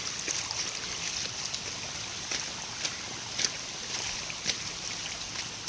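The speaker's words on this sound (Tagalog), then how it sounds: "Baha." Floodwater rushes along a swollen river on the way home, a steady broadband wash with occasional sharper splashes and surges, fairly loud and continuous throughout.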